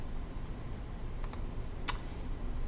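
Computer keyboard typing comes as soft, scattered keystrokes with a couple of sharper clicks, close and quiet, with no voices.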